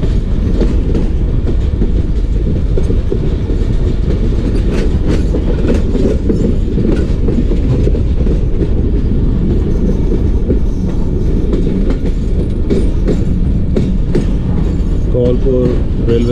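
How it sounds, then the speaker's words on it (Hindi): The Jaffar Express pulling into a railway station on the Bolan Pass line in Balochistan: loud, close rumbling and rhythmic wheel clatter over the rails with occasional metallic squeals, continuous and heavy throughout. "स्टेशन पे अप्रोच कर रही है जाफर एक्सप्रेस।"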